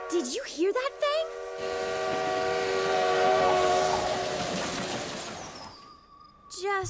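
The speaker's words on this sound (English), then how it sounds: "did you hear that spooky train whistle this morning?" A long, eerie train whistle sounds steadily for several seconds, loud and sustained with layered tones, then fades; brief voices before and after.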